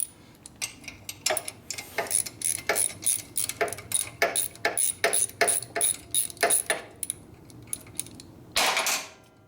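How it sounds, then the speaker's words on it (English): Hand ratchet turning during a 1974 Harley-Davidson shovelhead 74ci bobber chopper build, a run of quick sharp clicking strokes in close succession, near and clear, ending with a brief rougher scrape. "Ratchet go."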